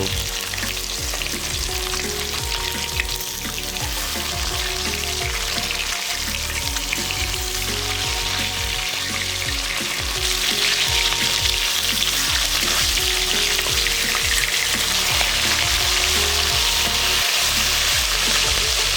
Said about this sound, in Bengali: মাছগুলো একটা সাইড ভাজা কমপ্লিট এবারে উল্টে নেব